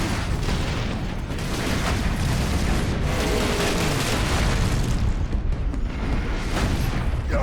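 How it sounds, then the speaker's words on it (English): Orcs open fire in the Warhammer 40,000: Space Marine video game, producing dense, continuous gunfire and booming explosions that layer into a loud, chaotic battle roar with no talking. "Okay, I have orcs shooting at me."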